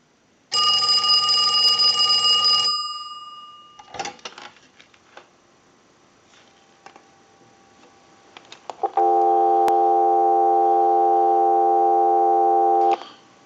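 A loud steady electronic dial tone from a Western Electric 2554 wall telephone under repair runs alone for about four seconds, followed by a brief ringing tone and quiet clicks.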